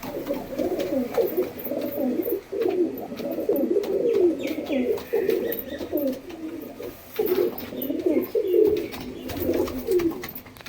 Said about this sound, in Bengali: পায়রার গরম ডাকটা দেখিয়ে দিই